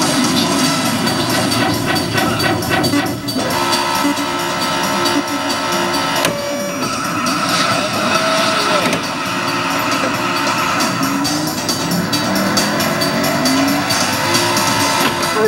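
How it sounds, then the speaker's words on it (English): Race car engines rev and tires spin in an arcade racing game, with a loud, continuous electronic engine roar and squealing wheel spin over game music, steady throughout. "Gentlemen, start your engines."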